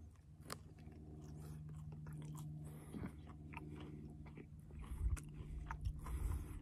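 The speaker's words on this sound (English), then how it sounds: "Once the beans form, the beans are inedible and you just kind of have to chew off" Someone chews young green mesquite pods from a desert tree, with faint, irregular crunching and biting sounds close to the ear over a steady low hum.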